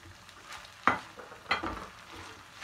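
Minced meat with chopped onions sizzling in a pan, a soft steady fry broken by a few scraping stirs of a spoon, quiet and close, with no voices.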